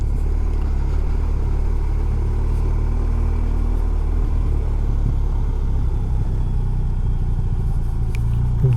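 A BMW R1250R motorcycle on a road ride in second gear through a corner, giving a continuous loud low rumble of engine and wind with no pauses or talking.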